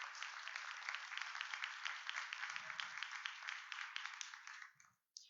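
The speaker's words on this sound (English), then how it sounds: "please do give him a round of applause for coming down here to speak to you this evening." Sustained applause from the audience at a public safety forum, a broad crowd of hands clapping evenly for several seconds before fading out abruptly, with a brief low murmur partway through.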